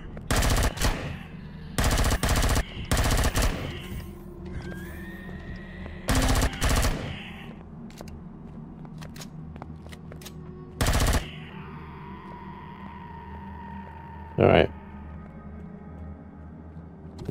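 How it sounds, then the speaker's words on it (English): Video game Empyrion Galactic Survival: sci-fi gunfire comes in several loud, sharp bursts of rapid shots separated by quieter stretches of tonal game effects and humming, with one short burst near the end. "There's nothing I can do but run away while I shoot."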